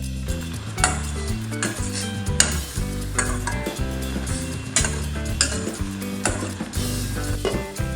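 Elephant foot yam curry is stirred in a pan with coconut oil, a utensil scraping and clinking in repeated strokes over a constant close sizzle, with no talk.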